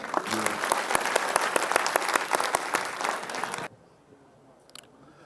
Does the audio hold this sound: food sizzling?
no